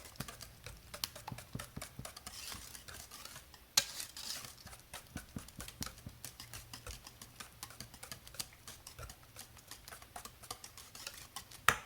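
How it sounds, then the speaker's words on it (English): Muffin batter being whisked in a bowl, a rapid run of light clicking and tapping strokes close by with no talk over it. "I'm going to whisk this together."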